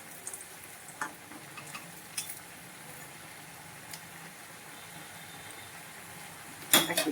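Fritters sizzle steadily in hot oil, a continuous crackling hiss with a few sharper pops and a louder clatter near the end, with no talking.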